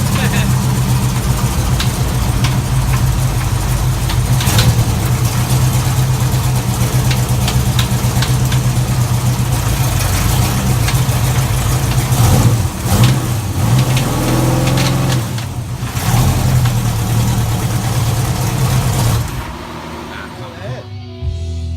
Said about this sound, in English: there's a bullet or something in your combustion chamber and it's slamming against the head